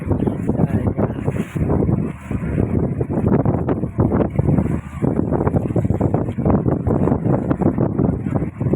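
Strong cold winter wind buffets the microphone outdoors, a loud, continuous gusty roar with short dips, steady throughout with no voices.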